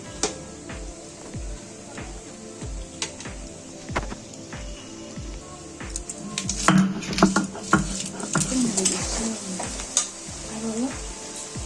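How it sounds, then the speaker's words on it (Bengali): Chopped onions sizzle and fry in a pan for a shahi mutton biryani, with a steady rhythmic scrape of stirring and sharp crackles building louder midway. "ফাঁকে একবার পেঁয়াজটা নেড়ে দিচ্ছি, মাঝে মাঝে নেড়ে দিতে হবে।"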